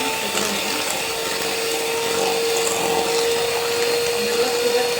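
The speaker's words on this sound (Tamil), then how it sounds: "இப்போ இதை நம்ம நல்லா பீட்டரை வச்சு பீட் பண்ணிப்போம்" Electric hand beater whisking eggs and sugar in a bowl for egg candy, a steady continuous motor whir with a sustained tone, close and fairly loud throughout, no talking.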